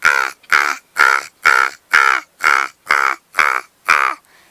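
A human voice imitates a crow, giving nine loud, evenly spaced harsh caws in a steady rhythm, close and clear with near-silence between each call.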